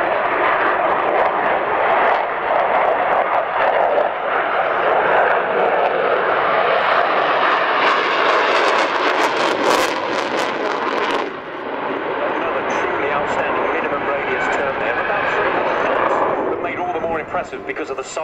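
A Sukhoi Su-27 Flanker jet performing a flying display at the RIAT 2018 airshow, a loud continuous roaring engine rumble that swells and shifts as it passes, with a voice commenting over it.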